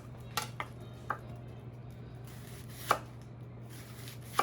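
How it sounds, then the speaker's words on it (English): A knife slices red onion on a cutting board in a few sparse, crisp taps spread out over several seconds, set against a steady low kitchen hum. "I'm going to slice a little bit of red onion"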